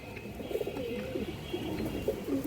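Pet pigeons kept for flying coo softly and repeatedly, a low throaty murmur rising and falling over steady background noise, several birds close by with no talk over them.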